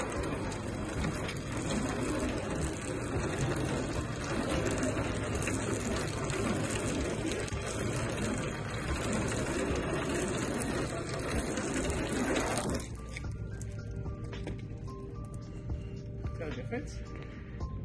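Water gushes and pours over the paint of a one-year-old Toyota GR86 in a steady, close rush that stops abruptly, leaving quieter dripping and faint background sound.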